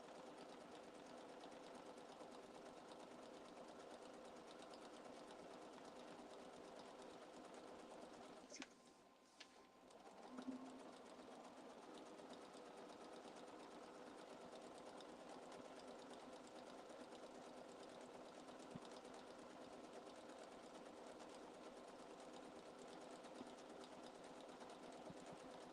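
A sewing machine stitches down folded fabric bunting with a steady, even mechanical whir. It runs alone and fairly quietly, with a brief pause partway through.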